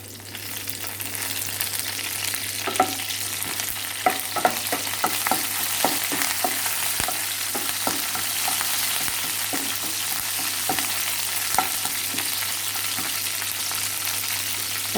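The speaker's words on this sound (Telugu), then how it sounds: "పోపు వేగిపోయింది" A tempering of four crushed garlic cloves and two sprigs of fresh curry leaves fries in hot oil for mint chutney, giving a steady close sizzle dotted with sharp crackles and spoon-stirring clicks throughout.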